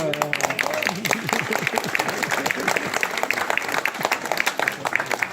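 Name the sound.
applause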